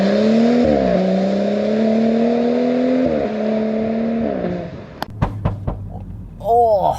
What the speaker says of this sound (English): How can you not like those turbo sounds?